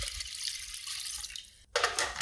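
Ice water pouring into a food processor over oats, a steady rushing splash that cuts off briefly, then a louder burst of splashing as more water goes in, nearby and with no talking.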